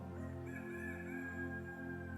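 A rooster crows in a sustained, harmonic call lasting about two seconds, with a steady low background hum beneath it and no talking.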